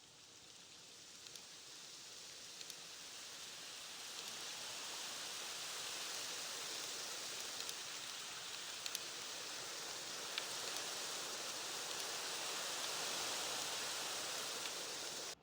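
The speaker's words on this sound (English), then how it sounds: "you hear the rain becoming more intense" Steady rain in a meditation app plays as a soft, even hiss that swells gradually louder and more intense, with no voices over it.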